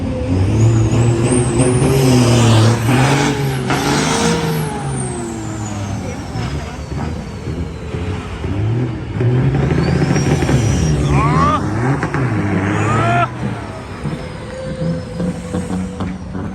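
A heavy ten-wheel truck engine roars and revs loudly up close, rising and falling in pitch, with a hiss of air brakes and other traffic nearby.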